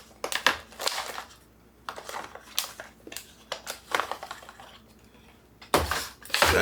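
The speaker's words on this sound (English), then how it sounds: "Ziplock it shut." Ziplock food storage pouch being pressed shut by hand after an oxygen absorber is dropped in, a series of close crinkly plastic crunches and clicks in uneven bursts, with a louder rustle at the end.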